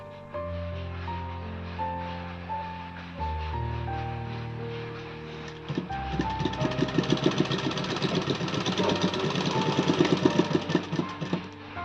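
A sewing machine stitches the waistband of a six-panel petticoat. A humming motor tone comes first, then a fast, regular rattle of stitching, close and steady, with no voices.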